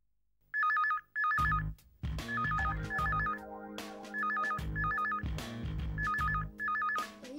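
A landline telephone rings in repeated double bursts after a local call is dialed, each ring loud and clear, with electronic tones and a steady low hum carrying underneath between rings.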